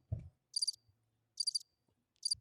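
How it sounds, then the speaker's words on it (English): Crickets chirp in three short, evenly spaced bursts, a crisp, close sound effect played in place of applause on a music talk show, with nothing else in between. "No, that's crickets. Crickets instead of claps."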